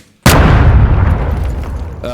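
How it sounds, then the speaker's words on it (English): A gunshot layered with an explosion for a Need for Speed: Hot Pursuit sound redesign: one sharp, loud blast followed by a long rumbling tail that slowly decays, heard alone. "we've got a gunshot layer here that and layered with an explosion"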